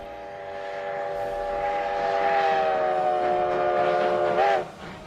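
A custom-made steam locomotive whistle on the Virginia and Truckee Railroad sounds one long, steady chord-like blast, rising in loudness before cutting off sharply near the end over train rumble.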